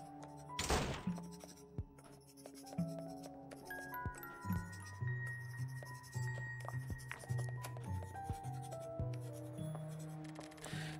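A quill pen scratches letters on old paper in the Pocket Mirror video game, with scattered soft scrapes and thunks over a quiet, eerie musical drone that carries on throughout.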